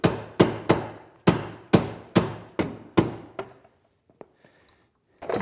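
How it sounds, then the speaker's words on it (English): A Ski-Doo Skandic ski axle being hammered into tight new guides: eight sharp, ringing blows in a steady rhythm, loud and close, followed by a few faint taps and clicks. "pounding it in, the new guides are much tighter"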